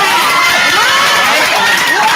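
A crowd gathered at a community inauguration ceremony in Dolton cheers and shouts, a dense, continuous roar of voices with some clapping mixed in, loud and close throughout.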